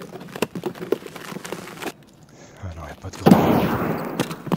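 Gunshots in Escape from Tarkov, a run of sharp close cracks in quick succession followed by a louder blast near the end, with people talking in between.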